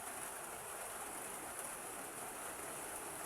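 Steady rain falling during a flooding spell, a dense even hiss with no breaks, soft and continuous, with no talk.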